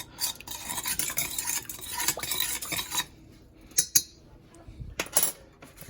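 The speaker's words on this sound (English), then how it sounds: "Take a little spoon, stir it all up." A small spoon stirs dirt into water in a container, a busy scraping and clinking swirl for about three seconds, then a few isolated taps and knocks against the sides.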